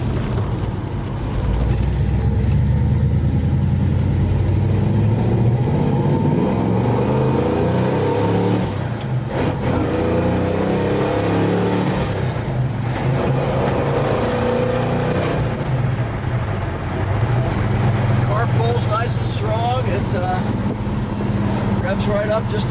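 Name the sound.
1966 Plymouth Belvedere engine idling and revving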